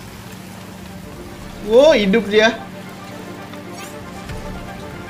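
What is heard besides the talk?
rain falling in the video game Genshin Impact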